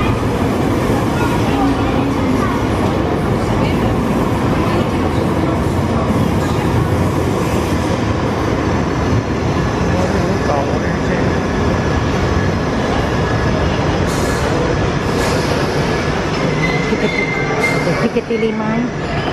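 A London Underground Piccadilly Line train rumbles steadily at an underground platform at Heathrow Terminal 5, with a dense low roar and occasional faint squeals and clatter throughout.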